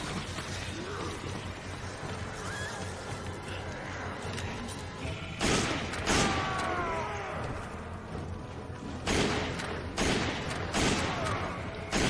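Gunfire in the video game Resident Evil 5, a string of loud sharp shots in uneven bursts with game sounds and background noise between them, louder in the second half.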